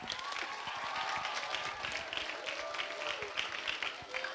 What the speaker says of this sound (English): give a round of applause for Dr.